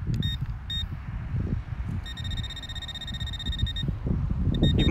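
A metal detector pinpointer gives high, thin electronic beeps, short bursts at first and then a longer steady tone, over a loud low rumble of outdoor handling noise.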